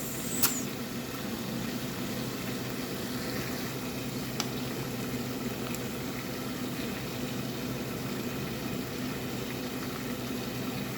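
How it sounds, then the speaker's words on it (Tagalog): Water at a steady boil in a cooking pot, readied for fettuccine noodles, giving a low continuous bubbling rumble with a couple of faint clinks, no talking. "so ayan, kumukula na guys"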